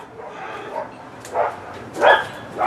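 Neighborhood dogs barking at a tent setup site, a few separate bark bursts at moderate distance over steady outdoor background, louder toward the end.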